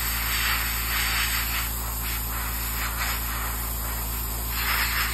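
An airbrush sprays top coat onto an Eduard B-25J scale model kit, a continuous close hiss with faint pulsing swells as the spray moves, over a steady compressor hum and whine.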